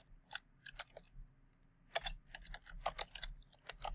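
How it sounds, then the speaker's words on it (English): Quiet, close keyboard typing, with irregular bursts of key clicks, brief pauses between them, and a faint low hum underneath. "what I'm going to be typing here is"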